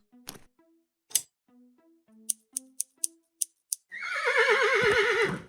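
A horse in the video game Willy Morgan & The Curse of Bone Town gives a loud, long, wavering whinny after a series of sharp snipping clicks and soft tones.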